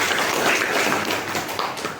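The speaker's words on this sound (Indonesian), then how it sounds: "Tepuk tangan untuk kelas ini." A classroom of students claps hands together in a dense, steady patter of many overlapping claps that continues evenly for about two seconds, close and fairly loud.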